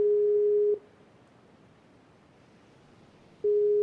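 Electronic telephone ringing tone heard in a voice call during a From the Depths game stream, a steady pure tone that sounds for under a second, pauses nearly three seconds and then starts again, clear and alone.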